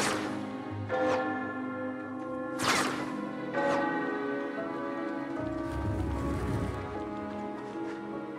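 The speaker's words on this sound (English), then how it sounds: "We need to hit 4 bells to go inside the small hole." Bells struck in Tower of Fantasy ring out in sharp metallic hits, five or so strikes spaced a second or two apart, each leaving a sustained tonal ring over low background rumble.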